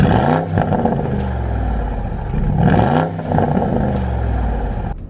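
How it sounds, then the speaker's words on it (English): A 2021 Porsche Cayenne GTS with its V8 engine and sport exhaust revs in rising and falling surges, loud and close, with a brief dip near the end and no talking. "Not to mention this lovely V8 that you just heard."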